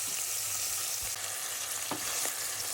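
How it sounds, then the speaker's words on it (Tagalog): Leftover roasted pork belly and tomatoes sizzle steadily in a hot pan, with faint stirring clinks and scrapes over the constant frying hiss. "Bago natin sabawan, ginigisa ko muna siya."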